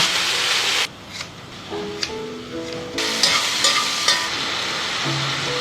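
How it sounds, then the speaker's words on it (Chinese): Beef rib strips pan-fry over low heat in a thin film of oil, a loud close sizzle that drops out briefly and returns, with scraping and shuffling as the meat is moved and flipped. "锅中薄油，全成小火，煎至底部微焦后翻面"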